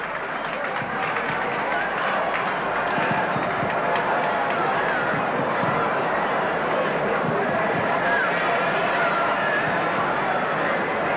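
A big stadium crowd applauds steadily for a young player at a 1987 Winfield Week of Rugby League match, a dense, unbroken wash of clapping and crowd noise throughout.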